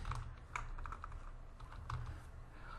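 Commands typed on a computer keyboard: quiet, irregular key clicks in short bursts, nearby and faint, with no voices.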